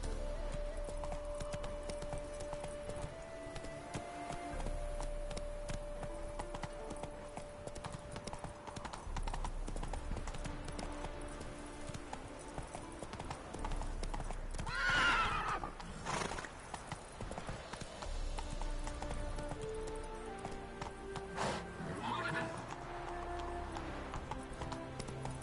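A horse gallops with steady, rhythmic clip-clop hoofbeats in The Witcher 3: Hearts of Stone, with a loud whinny near the middle, all over a continuous game music bed.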